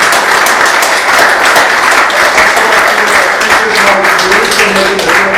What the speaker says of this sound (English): let's give Paul another big round of applause